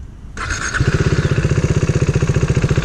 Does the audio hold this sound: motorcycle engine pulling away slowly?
yes